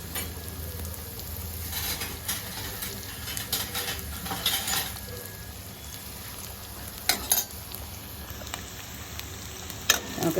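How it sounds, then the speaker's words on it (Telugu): Bitter gourd pieces frying in oil in a kadai with turmeric, a soft steady sizzle and crackle running throughout, broken by occasional spoon scrapes and light metallic clinks against the pan. "కాకరకాయ ముక్కలు బాగా వేగాలి. నూనెలో వేగితే చేదిపోతుంది అన్నమాట."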